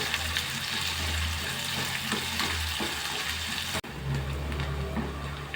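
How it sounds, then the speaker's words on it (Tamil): Sliced onions sauté in a pan on low flame for tomato onion chutney, a loud continuous sizzle with stirring scrapes, a brief break near the end and then the frying resumes. "வெங்காயம் நல்லா வதங்கியாக இருக்கும்"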